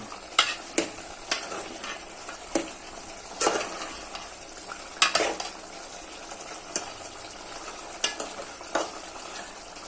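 Chicken fry masala being stirred in a hot pan, with repeated sharp scraping strokes at an uneven rhythm over a steady frying sizzle, close and fairly loud with no talk.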